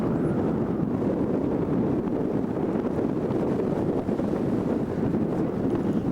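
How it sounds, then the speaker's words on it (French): A violent katabatic wind pours off the Greenland ice cap, a steady, loud, roaring rush buffeting the microphone without pause. "vent katabatique en provenance de la calotte glaciaire, vient de se lever"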